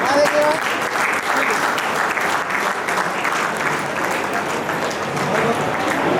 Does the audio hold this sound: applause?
yes